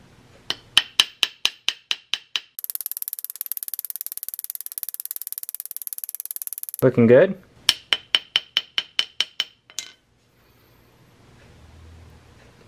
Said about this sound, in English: I just hammered it just a little bit on this curve